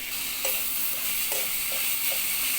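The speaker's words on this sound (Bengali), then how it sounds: "লবণটা দিয়েও আমি আবারও মিনিট পাঁচেক কষিয়ে নেব" Amra chutney with salt frying and stirred in a pan, a steady close sizzle with a few soft spoon scrapes, no voices.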